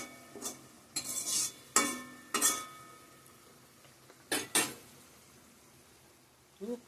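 Eggs being cooked in a pan in a home kitchen, with a utensil stirring and scraping against the pan in scattered, fairly quiet clinks and bursts, with no talking.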